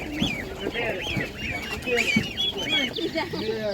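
Young Czech Dominant laying hens, vaccinated factory-type birds, clucking and calling at an outdoor animal market, several overlapping squawks and clucks at close range with people talking in the background.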